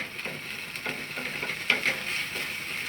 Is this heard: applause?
no